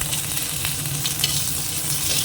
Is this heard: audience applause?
no